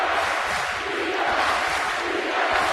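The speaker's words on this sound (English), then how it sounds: "Crowd chanting defense for the number 1 defensive team in the Ivy League, Harvard." Basketball arena crowd at a Harvard Ivy League game, a dense, steady roar of many voices sustained throughout, close and loud with no clear rhythm of individual words.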